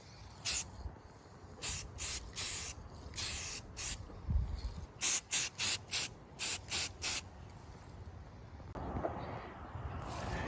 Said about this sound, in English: And now I'm going to get some Rust-Oleum flat black